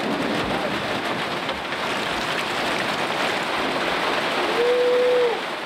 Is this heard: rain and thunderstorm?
yes